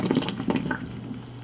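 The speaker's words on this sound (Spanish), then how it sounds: "le voy a quitar esa agua para que ya no se siga cocinando" Hot water is poured off cooked spaghetti, giving a brief, close splashing and gurgling of liquid that fades quickly.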